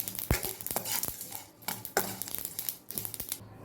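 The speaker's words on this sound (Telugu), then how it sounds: "పల్లీలు, నువ్వులు, మినపప్పు, పచ్చెనపప్పు, ఎండు కొబ్బరి, ఇవన్నీ కలిపి డ్రై రోస్ట్ చేసుకోవాలి కొంచెం లైట్గా." Peanuts, sesame seeds, lentils and dry coconut dry-roast in a pan, giving quiet, irregular scraping and clattering as a spoon stirs them, with brief sharp clinks against the metal.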